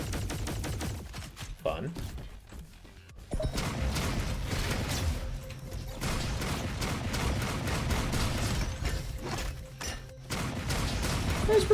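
Sustained fire from the Cosmo gun in the RoboQuest video game, a dense, continuous mechanical rattle of shots running steadily under brief speech, with a quieter gap near the start before the firing resumes loudly.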